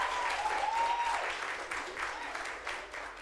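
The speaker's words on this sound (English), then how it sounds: "Let's clap it up for the soccer team." Applause from an audience at a school board meeting, honouring the soccer team; steady, dense clapping throughout with a faint whistle early on and some talk mixed in.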